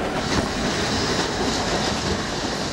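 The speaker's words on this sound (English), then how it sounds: "before the train arrives at the destination." Loud, continuous rolling rumble from inside a passenger train crossing Sri Lanka, with faint clickety-clack of wheels on rail joints under the broad steady roar.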